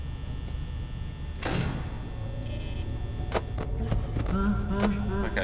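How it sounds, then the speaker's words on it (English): Door shutting in the video game Five Nights at Freddy's: a single mechanical sliding thunk partway through, followed by scattered clicks and small electronic game sounds under a steady hum. "I say we get to 38 and we shut this door for Foxy."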